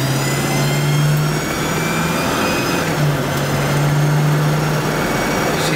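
A Mercury Marquis Colony Park station wagon with a 460 engine drives at road speed, giving a steady loud drone with a low engine hum and constant road and wind noise.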